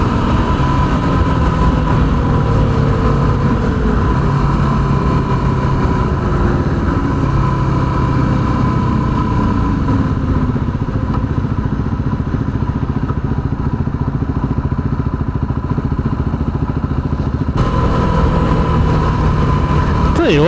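A Yamaha WR250R motorcycle riding in the rain, its engine droning steadily and loud throughout with wind roar and wet road noise, the pitch rising and falling slightly with speed.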